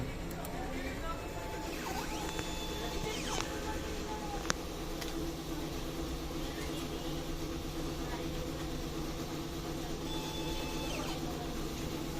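A printer whirs steadily with a constant mechanical hum, the carriage sliding back and forth with occasional faint clicks, loud and continuous throughout.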